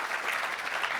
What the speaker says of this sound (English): please give a big round of applause to the one, Kristen Kish.